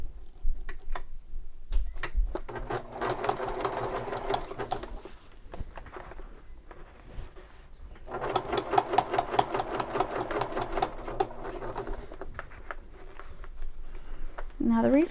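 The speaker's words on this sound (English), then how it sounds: "Now what I'm going to do is stitch all the way across," A sewing machine top stitches across a shoulder bag in two long bursts of rapid needle stitching, separated by a pause with small handling noises, close and clear.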